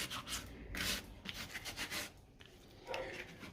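Wet sandpaper rubbing across a cement-and-grout bonsai pot during finishing, a close series of rasping strokes that rise and fall irregularly with short pauses between passes.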